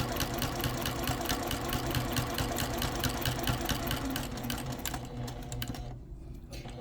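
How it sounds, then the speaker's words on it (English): Sewing machine running continuously at a steady fast rhythm while stitching a quarter-inch seam around a mini quilt, close and loud, easing off near the end. "I'm just going to stitch 1/4 inch all the way around my machine"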